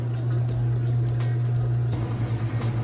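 A Whirlpool washer pumps out its rinse water in a steady, loud gushing drain with a constant low pump hum, continuous and close.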